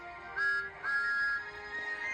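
Two short, high steam engine whistle toots, then a softer one, fairly clear over a quiet background.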